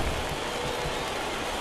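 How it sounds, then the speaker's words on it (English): Steady rain falling during an afternoon baseball game, an even broadband hiss of drops on surfaces that holds constant and fairly loud throughout, with no voices. "the rain starting to intensify here. It's coming down a little heavier now."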